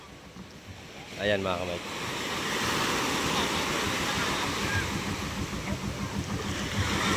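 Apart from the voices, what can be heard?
sea waves at the shore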